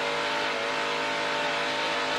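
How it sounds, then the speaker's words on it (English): A NASCAR Camping World Truck Series race truck engine roars at full throttle as the driver gets on the gas, a loud, steady, dense mechanical howl heard from on board throughout. "Listening to that engine churn as he just jumped on that gas pedal"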